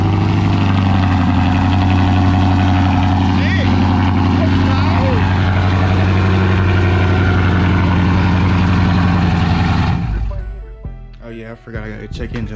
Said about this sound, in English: First cold start with the new tranny in, bro.